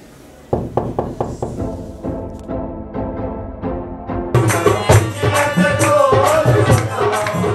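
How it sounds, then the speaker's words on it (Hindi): Knocks on a house door, about eight evenly spaced raps in a steady run, fairly close and clear, followed by a louder burst of background noise and music. "तो आइए दरवाज़ा नॉक करते हैं और देखते हैं कि कौन आता है।"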